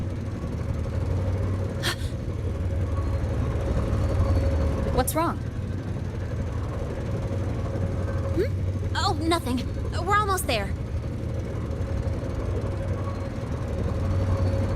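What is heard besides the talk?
train passing by in the video game Wuthering Waves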